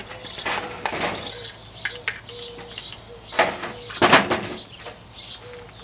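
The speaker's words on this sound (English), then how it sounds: "open my container," A container of Epsom salts is opened outdoors in a garden: several close scraping and clicking bursts from the lid, with birds chirping in the background.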